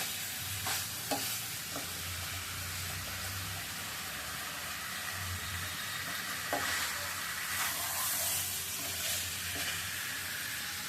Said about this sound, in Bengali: আলুগুলো দেখেন কীভাবে ম্যাশ হচ্ছে।